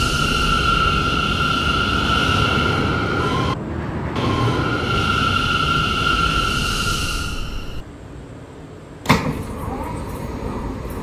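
A Brooklyn-bound R179 C local train on the New York City subway: a loud, steady motor whine and rumble that dips briefly, runs on, then drops to a quieter roll before a sharp clunk near the end.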